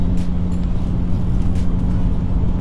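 A bagged, wide-body VW Caddy with an R32 engine drones steadily while driving, a loud continuous low hum from inside the cabin with faint road noise.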